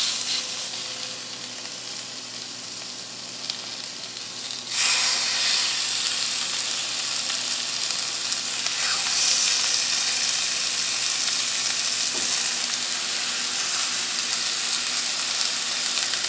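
Pork chop laid into olive oil in a pan over medium-high heat, a loud steady sizzle that jumps up sharply as the meat goes in and keeps crackling evenly close by.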